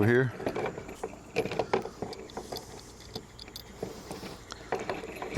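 Metal nuts and bolts clink and rattle in quick, scattered taps while someone builds a scrap-metal airgun target; the handling is close but fairly quiet.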